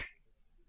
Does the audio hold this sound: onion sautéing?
no